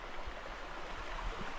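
A clean creek flows over its bed in a national park, giving a steady broadband rush of running water at moderate level throughout, with no voices.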